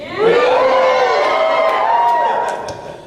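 A convention audience at Starbase Indy 2011 whoops and cheers in a loud, sustained burst of rising and falling voices lasting about three seconds, then begins to fade.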